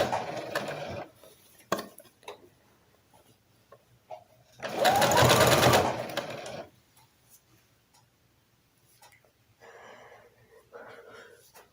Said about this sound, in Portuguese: E vou costurando rente.